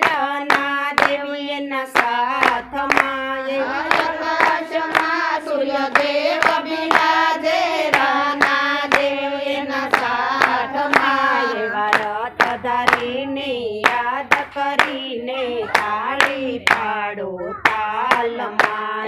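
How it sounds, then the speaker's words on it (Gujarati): Rhythmic hand clapping keeps time with a sung Shiva Shakti bhajan, sharp regular claps cutting through a sustained devotional vocal close by. "શિવ શક્તિને યાદ કરીને તાળી પાડો તાલમાં"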